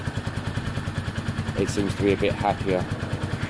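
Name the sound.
motorcycle engine idling while warming up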